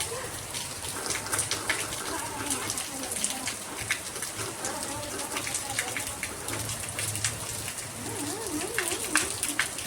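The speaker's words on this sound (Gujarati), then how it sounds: "જો હવે વરસાદ કંઈક આવ્યો એવું લાગે છે." Rain falls steadily with a dense patter of drops on surfaces, close and constant, while a person talks over it and a cat meows briefly near the end.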